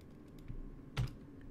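A few scattered keystrokes on a computer keyboard, with no steady typing rhythm, sit over a faint room hum, quiet and close.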